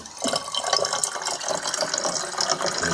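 Fresh tap water pours into a half-full bottle for a few seconds, a close, gurgling splash with fine bubbling texture and no talking over it.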